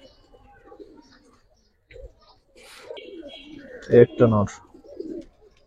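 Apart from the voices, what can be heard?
Cobra Silver pigeons cooing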